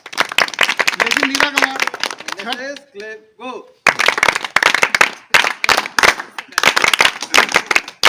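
Sharp, close audience clapping in uneven bursts at a comic poetry event, broken by a spoken voice in the middle before the hand claps resume loudly.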